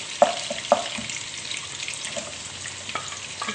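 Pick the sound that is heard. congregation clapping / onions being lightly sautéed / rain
onions being lightly sautéed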